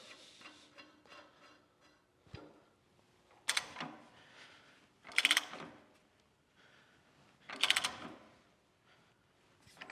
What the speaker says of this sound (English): Get our nuts in place, and we can tighten it all up.